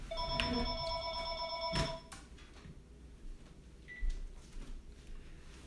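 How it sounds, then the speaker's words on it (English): An indoor telephone rings with two clear electronic bursts, and a loud knock or clunk follows as the phone is picked up. A brief beep and faint handling noises come after. "let me grab the phone"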